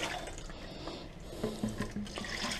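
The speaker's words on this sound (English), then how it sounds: "Now I like to give this a good rinse" Water splashes and swirls as a plastic worm bucket is rinsed out, a soft, close liquid wash with a few brief gurgles and pours toward the end.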